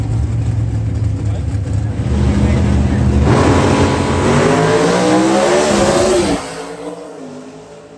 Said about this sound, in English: listen to things go through the gears